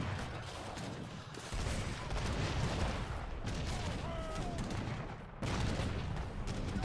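Skirmisher musket fire in the real-time strategy game Age of Empires III, a dense, continuous crackle of overlapping gunshots in a battle, loud and sustained with brief dips, with no clear speech.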